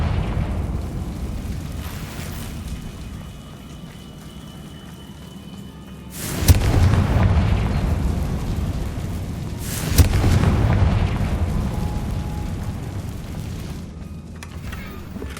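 Two heavy booming blasts from a Confringo spell in the Hogwarts Legacy video game go off a few seconds apart, each a sharp burst that decays into a rumble over a low ambient background.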